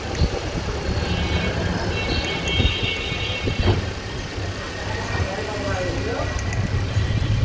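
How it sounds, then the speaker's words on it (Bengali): A car engine that loses pickup and jerks and stalls while running idles after being started, giving a steady, close, slightly uneven mechanical hum with a voice talking over it. "তো গাড়ি করলাম এখানে স্টার্ট"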